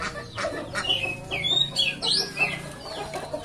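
Several fighting-breed rooster chickens cluck close by, with quick bright chirps and squawks over a steady low farmyard hum.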